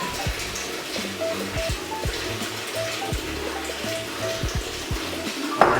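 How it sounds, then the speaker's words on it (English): A kitchen sink fills with warm water from the tap ahead of soaking a cast iron pan, a constant rushing stream under faint knocks and clatter, close by. "We're filling up our sink with warm water."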